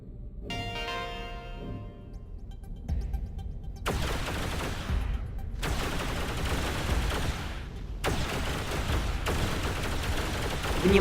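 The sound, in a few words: space combat weapons fire in video game X3 Albion Prelude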